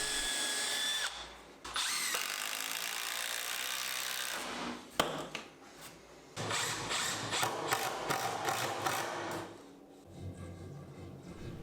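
A power drill driving screws into CLS timber uprights while building a bathroom cabinet, with several close bursts of whirring and ratcheting separated by short pauses.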